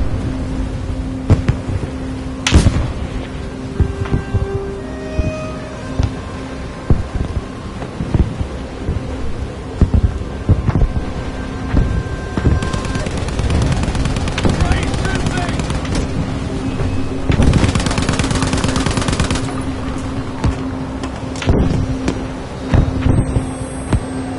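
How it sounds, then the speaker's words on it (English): Artillery fire creeping across a Battlefield V battlefield: dense, rumbling booms and crackling blasts roll on continuously, with heavier bursts near the start and around the middle, amid constant battle noise. "Artillery fire is creeping."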